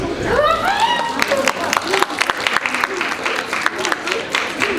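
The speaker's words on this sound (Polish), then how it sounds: "gratulujemy wielkie brawa dla pani Izabeli" An audience at a festival award ceremony applauds a prize winner with steady, crackling claps close to the microphone. A voice and some chatter sound briefly at the start.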